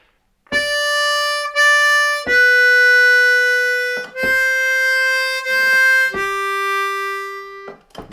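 A C harmonica plays a phrase of Silent Night as four sustained, clear notes, each held for about two seconds with small breaths between them, close and loud on its own.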